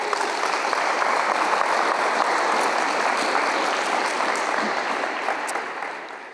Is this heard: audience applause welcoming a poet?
yes